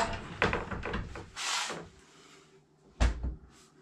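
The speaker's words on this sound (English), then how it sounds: "Put the door back on." A Beko integrated freezer door being refitted and pushed into place, with a few wooden knocks and rubs, a brief sliding scrape, then a firmer thud near the end, close by and without talk.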